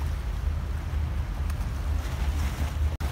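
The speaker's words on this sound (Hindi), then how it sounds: "पानी की अब लहरें कदरें ऊंची हो गई हैं पहले से, क्योंकि शाम का वक्त है" Evening water waves lapping near the shore by Gülhane Park in Istanbul, a steady low rolling wash with wind, continuous and fairly close, with no voices.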